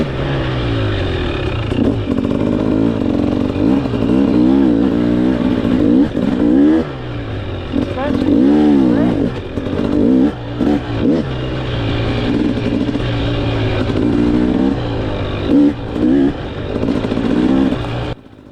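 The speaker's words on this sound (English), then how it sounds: "I was totally okay with going slow, feeling how smooth the bike was, and just learning how this bike maneuvers" A 2024 TX300 dirt bike is ridden slowly. Its two-stroke engine burbles and rises and falls in pitch through repeated gentle throttle blips, loud and close throughout.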